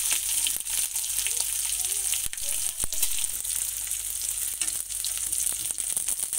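Ginger, garlic, green chillies and onion fry in oil for a cabbage snack, giving a dense, even sizzle close by, broken by a few sharp clicks and taps of a spoon against the pan.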